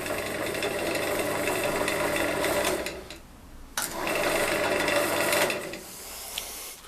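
A repaired woodturning lathe motor runs at a steady whirring drone, briefly drops away, then spins straight back up to full speed and keeps running.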